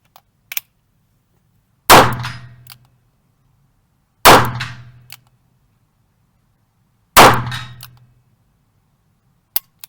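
Manurhin MR 73 revolver chambered for .38, in single action only, dry-firing: three sharp metallic hammer clacks with short ringing decay, evenly spaced and close, plus faint small clicks at the start and end.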